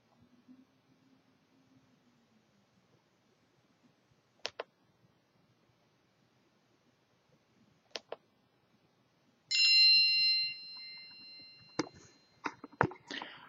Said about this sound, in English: we have a new notification up here which appeared